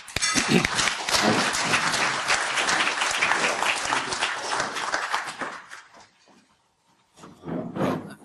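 An indoor audience breaks into steady, full applause to welcome a speaker at a lecture on Japanese politics and Abenomics. The clapping fades to near silence, then a short burst returns.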